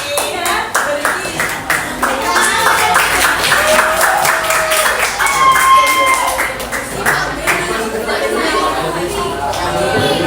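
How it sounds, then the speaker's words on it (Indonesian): Classroom applause during a lesson, several rounds of children clapping in steady bursts with lively chatter and young voices talking over it throughout. "Beri tepuk tangan untuk kamu."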